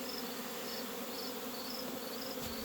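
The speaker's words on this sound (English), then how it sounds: "But that's a lot of bees." Honey bees at a hive fill the air with a dense, steady buzzing hum, continuous and fairly close, with no talking.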